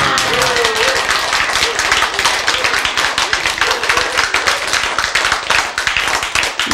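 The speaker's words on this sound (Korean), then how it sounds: "요 박수를 치는 순간에" Hands clapping in a rapid, fairly regular series of sharp claps that run the whole stretch, with a faint background voice underneath.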